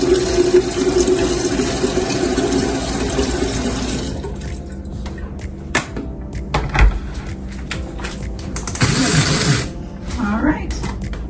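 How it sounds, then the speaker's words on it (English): Water runs and splashes steadily, like pouring from a tap, to brew coffee in a home kitchen, then breaks into clinks and handling noises with brief splashes near the end. "You know what would really help is if I start with water."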